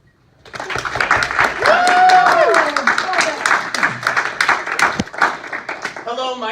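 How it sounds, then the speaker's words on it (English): A vocal class audience claps and cheers wildly, a dense burst of applause that swells then tapers, with voices and whoops mixed in. "So clap wildly when I come out."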